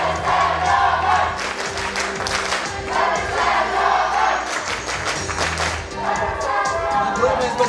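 Crowd applause and cheering fill an awards ceremony hall for the LIMPOPO-2014 review, a steady loud wash of clapping with shouts, thumps and some voices mixed in throughout.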